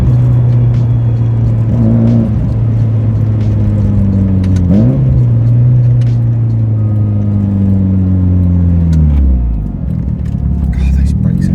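A turbocharged Nissan Pulsar GTiR engine drones loudly from inside the cabin, its pitch rising and falling as it revs through gear changes, with speech over it.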